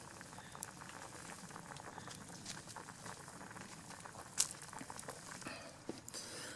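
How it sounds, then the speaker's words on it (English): Stew simmers in a pot over a campfire, a faint, steady bubbling patter with soft crackles and a couple of sharp pops, no voices. "now that we have our stew on the fire cooking"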